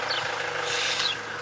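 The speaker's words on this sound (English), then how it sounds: "I've just turned the engine on" Car engine idling nearby, a steady low hum under a broad hissing, rasping noise, with no voices.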